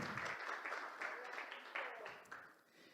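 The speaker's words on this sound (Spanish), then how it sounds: "Denle un aplauso al Rey si usted quiere." A church congregation applauds during a Spanish-language sermon, a soft, dense patter of clapping that swells in a few waves and fades out toward the end.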